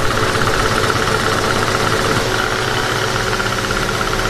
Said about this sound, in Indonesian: mendengar suara mesin bergemuruh di kantor ayahnya